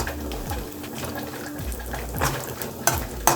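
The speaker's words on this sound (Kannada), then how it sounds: "ಇವಾಗ ಬಾದಾಮಿ ಮತ್ತು ಗೋಡಂಬಿನ ಹಾಕ್ಕೊಳ್ಳೋಣ ಎರಡನ್ನೂ. ಇದನ್ನು ಅಷ್ಟೇ ಇದೇ ಥರ ಫ್ರೈ ಮಾಡ್ಕೊಳ್ಳೋಣ ಲೈಟಾಗಿ." Almonds and cashews fry lightly in a pan for wheat payasa, giving a soft steady sizzle with a few stirring scrapes and clinks near the end.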